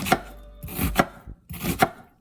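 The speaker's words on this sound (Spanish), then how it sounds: "Picamos los tomates, los chiles." A knife chops tomatoes and chiles on a cutting board. There are three distinct, close, loud knocks, each with a short scraping lead-in, and no speech.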